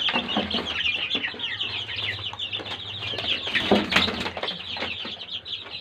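A dense chorus of country chicken chicks peeping continuously and close by while drinking medicated water, with some lower clucking mixed in.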